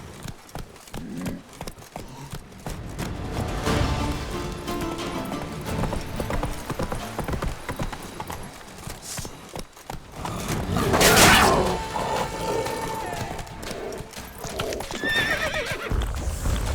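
Roach, the horse in The Witcher 3, gallops with steady rhythmic hoofbeats and gives a couple of loud whinnies, one especially strong partway through, over game ambience.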